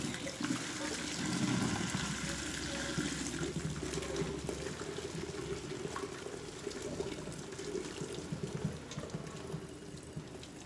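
Water pouring and splashing as boiled eggs are drained in a kitchen, a continuous rushing gush at low level with a brief voice underneath.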